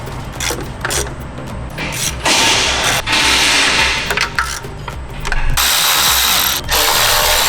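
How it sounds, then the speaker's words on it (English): A ratchet wrench clicks rapidly while bolts on the throttle bodies of a Nissan 350Z HR are tightened down, with loud, close bursts of ratcheting and short pauses between them. "so we're tightening down the throttle bodies now"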